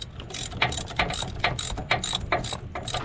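A ratchet clicks in quick bursts while tightening a bolt on a rack and pinion steering unit in a 2000 Dodge Dakota, about five short clicking runs, close and fairly loud.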